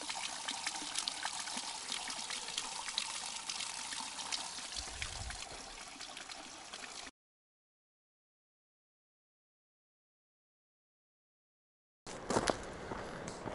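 Mountain spring water flows steadily along a trail switchback on the Pacific Crest Trail near Sierra City, a continuous broad wash heard alone, cutting off abruptly and briefly resuming near the end.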